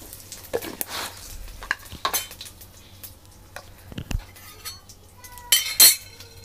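Asafoetida goes into hot oil already holding cumin seeds in a pan, followed by a metal spoon clinking and scraping as it is stirred, with brief louder clatters near the end.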